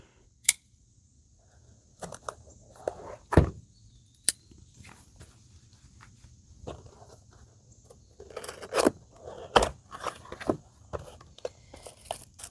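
Crinkling and tearing of packaging as an Umarex Avera air gun box is opened, with scattered taps and rustles, close by and intermittent, no talking.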